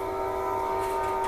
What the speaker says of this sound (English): please excuse the train